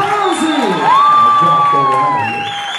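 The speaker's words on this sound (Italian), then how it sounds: "proviamo a fare questo applauso sonoro, questo applauso accompagnato da un urlo fortissimo" Children in a group shouting loudly together in a sustained cheer, a long rising whoop held over crowd noise for about two seconds before fading.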